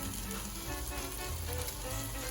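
Onions and mushrooms sizzle loudly in a pan being stirred, a dense, continuous, close frying hiss with no voices over it.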